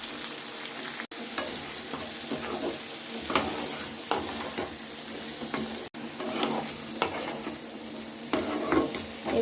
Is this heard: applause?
no